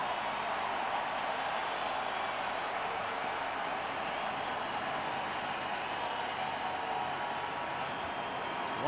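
A baseball stadium crowd at a 2012 World Series game on a cold night keeps up a steady, distant roar of cheering and noise across the whole stretch, with no single burst standing out.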